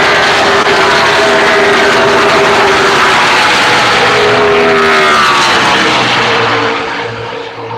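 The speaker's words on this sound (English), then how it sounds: "Almost like an airliner, how you can hear the air before you hear the engines." NASCAR race cars passing at Las Vegas Motor Speedway, a loud, continuous rush of air and engine roar that fills the whole clip and eases off slightly at the end.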